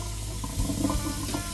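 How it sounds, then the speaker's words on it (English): About two cups of water pour steadily from a tap or container into a cooking pot, a continuous close splashing rush with no voices. "I'm going to go ahead and put like 2 cups of water in there."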